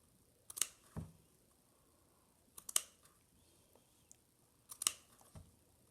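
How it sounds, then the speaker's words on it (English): Scissors snip through felt for a craft flower bouquet, three distinct close cutting bursts spaced about two seconds apart, each a sharp crisp click with a brief rasp, quiet between strokes. "It's definitely harder to cut with the tips."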